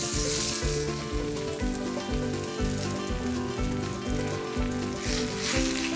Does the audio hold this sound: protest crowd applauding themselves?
no